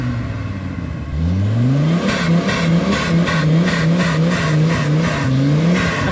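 A turbocharged off-road rock-crawling vehicle engine revs up close and loud, rising in pitch in repeated surges with a whistling turbo whine over the rumble.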